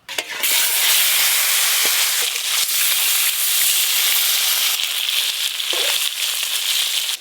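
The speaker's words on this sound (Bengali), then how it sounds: "এই যে এই মাছগুলো আছে, এগুলো একবারেই ভেজে নেব।" Tilapia fish frying in hot oil for a spicy curry, a steady broadband sizzle and hiss with occasional crackles and pops, loud and continuous throughout with no talking.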